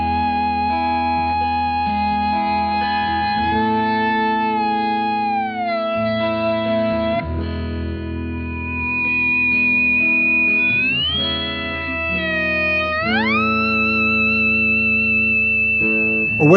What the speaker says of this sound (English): If I use a slide with the sustainer, it kind of sounds like a woman's voice or a theremin.